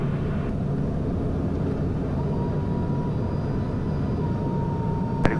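A Pilatus PC-12 single-engine turboprop lifting off at about 80 knots, a steady loud engine roar and rumble heard from inside the cabin, with a brief click near the end.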